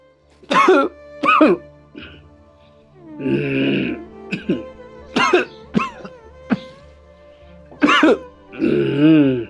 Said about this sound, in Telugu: ఏందయ్యా ఒకటే దగ్గుతాను